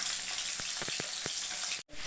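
Pieces of rohu fish fry in hot oil for a kalia curry with a steady sizzling hiss and a few sharp spatula taps, close by, cut by a brief dropout near the end.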